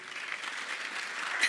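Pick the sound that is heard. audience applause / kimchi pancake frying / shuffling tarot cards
audience applause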